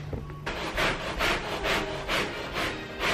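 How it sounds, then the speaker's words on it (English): Scrub brush worked by hand over set-in carpet stains, giving a series of rhythmic rough scrubbing strokes, about one every third of a second, close and moderately loud with no talk. "using this scrub brush right here to scrub some of the deeper set-in stains"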